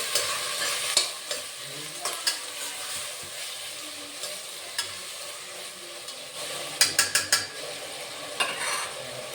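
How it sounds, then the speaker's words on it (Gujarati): Chickpeas being stirred with ginger-chilli paste in a hot pan: a soft fry underneath, with scattered scrapes and a quick burst of sharp utensil clinks near the end. "પછી આદુ મરચાંની પેસ્ટ છે તે પણ લઈ લેશું, હલાવી લઈશું"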